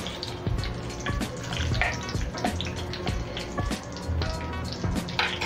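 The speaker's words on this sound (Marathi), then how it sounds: "त्याच्यात हे तमालपत्र टाकते मी।" Bay leaf dropped into hot oil for a dry chicken dish, giving a steady crackling sizzle with dense bursts of spattering that carry on loud and close throughout, with no talking.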